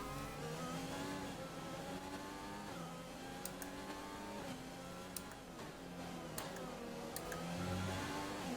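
An F1 race car engine in the F1 2020 video game revs and shifts through gears continuously, loud and close, with rising and falling whine across the whole stretch.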